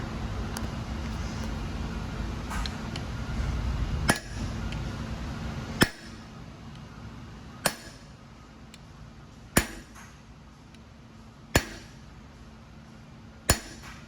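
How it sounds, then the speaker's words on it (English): Sharp, ringing hammer blows on a stuck set screw in an oil tool, six strikes spaced about two seconds apart, loud and close over a low background hum. "So smacking it with a hammer"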